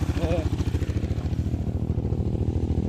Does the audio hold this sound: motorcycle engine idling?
yes